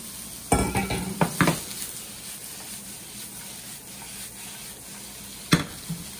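Diced tofu and mushrooms cooking in a pan, a soft constant sizzle broken by a cluster of stirring scrapes and utensil clacks near the start and another sharp knock toward the end.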